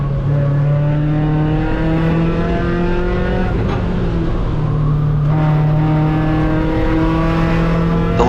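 A race car at Mid-Ohio circuit drones loudly from the cockpit, its engine note climbing through the gears, dipping under braking, then rising again, a continuous harmonic roar throughout.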